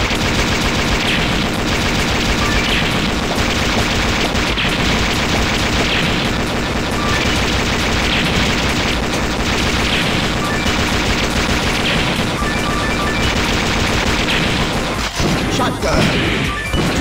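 Machine gun fire in the Metal Slug 6 arcade game rattles loud and nonstop over busy game music and explosions, with a game voice calling out now and then.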